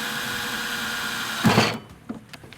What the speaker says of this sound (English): then I'll be able to drill through with a 1/8 bit here.